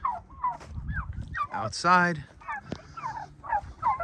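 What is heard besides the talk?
pasture-raised turkeys gobbling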